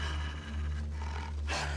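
A wolf in The Long Dark lets out a low, rumbling growl, close and continuous for under two seconds, rising slightly at the end, with no voices.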